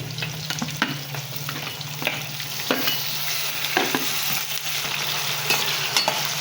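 Onions and tomatoes fry and get stirred in a pan, a steady broadband sizzle with a low hum beneath and irregular scraping stir strokes throughout.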